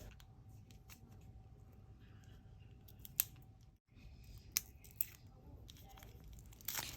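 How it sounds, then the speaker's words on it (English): Plastic packaging being snipped and torn off a new PC1M paint pen, close crinkling and rustling with a few sharp cuts and clicks against a quiet background hum, no talking. "I'm just going to start by removing the plastic packaging from this one."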